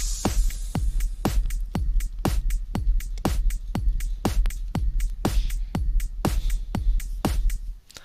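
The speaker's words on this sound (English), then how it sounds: "EDM drums that I've used, and I used a dual octaver" EDM drum loop processed with a dual octaver adding low and sub octaves, a steady four-on-the-floor kick with bright transients, loud and alone in a house track.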